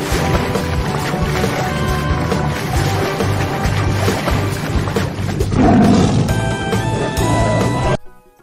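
A tiger roars in a loud, rough, rumbling stretch lasting about eight seconds, swelling midway before cutting off sharply.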